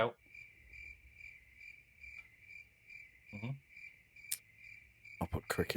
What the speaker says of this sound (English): I'll put crickets in there after that one.